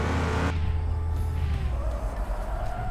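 An in-game car engine from Car For Sale Simulator 2023 hums at a steady low pitch with a faint whine, holding fairly loud and even for a few seconds, with a slight shift in pitch toward the end.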